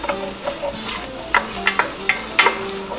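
Minced garlic stirred in sizzling olive oil, a steady frying hiss broken by several sharp scrapes of a spoon across the pan, close and fairly loud.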